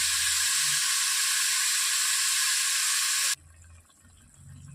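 A steady rushing stream of water pours into a cooking pot of chicken curry for about three seconds, then cuts off abruptly, leaving quiet low background noise.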